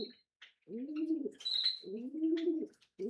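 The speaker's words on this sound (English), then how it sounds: "That is a pigeon." A pigeon gives two throaty, rolling coos in close succession, each about a second long, near and fairly soft against a quiet background with a few faint high chirps between them.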